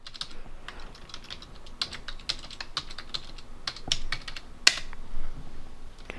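Clicky computer keyboard at a gaming desktop, a quick irregular run of sharp, close keystroke clicks with brief pauses and one louder snap near the end, no voices.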